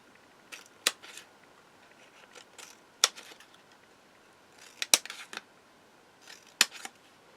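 Scissors snip through craft paper in a few sharp, separate cuts spread across a quiet tabletop, each snip crisp and close with pauses between.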